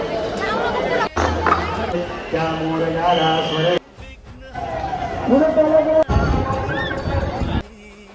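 A dense crowd of devotees packed around the Dagdusheth Ganpati temple, with a busy murmur of many voices and scattered knocks and shouts. Close talking rises over the babble at times.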